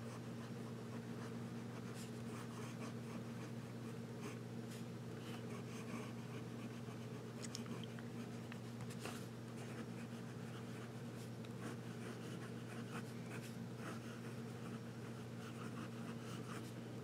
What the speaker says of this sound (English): So, let's do a little bit of writing.